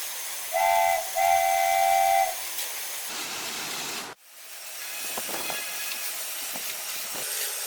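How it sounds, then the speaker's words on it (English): A LEGO train hauling 450 grams of gravel up an incline gives a steady, high motor whine in two close bursts, then a broad, rattling rumble that runs on to the end. "No hesitation. The train keeps moving and conquers the incline."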